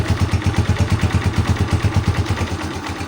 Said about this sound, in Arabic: سامعين الموتور كده؟ احنا سادين الشكمان